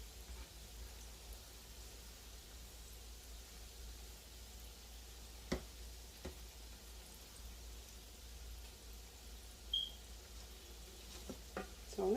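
Greek meatballs (keftedes) fry in a pan with a soft, steady sizzle, joined by a few faint clicks and light stirring knocks, and no voices.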